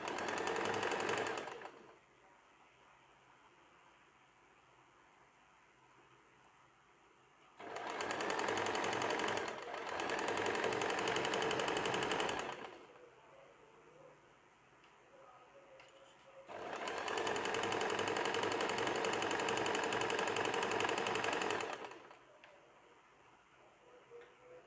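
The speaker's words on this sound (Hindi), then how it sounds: "अब हम म्यानी के इस पार्ट को ऐसे ही स्टिच कर लेंगे, जैसे हमने और" A sewing machine stitches the crotch gusset of an extra-large night pajama in three loud bursts of rapid mechanical whirring, separated by quiet pauses.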